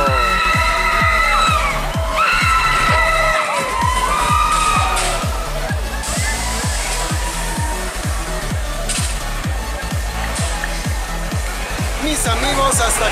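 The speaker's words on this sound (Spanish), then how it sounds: "Escuchar los gritos de los chicos que están emocionados ahí en el relámpago" Loud mechanical rumble with a steady rhythmic thumping from the El Relámpago ride at Irtra Petapa amusement park, Guatemala City, overlaid by high screams and shouts from a group of riders, continuous and close.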